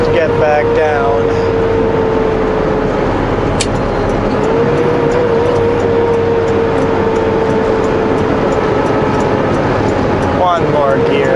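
A heavy truck hauling trailers climbs Highway 3 with a steady, loud engine drone and whining gear changes as it shifts up. Talk is heard over the engine.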